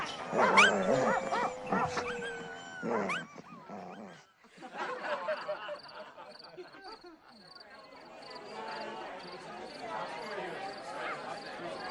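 Starved hunting dogs kept by hunters bark and yelp in loud, excited bursts at the start, then a busier, noisier outdoor din continues behind them.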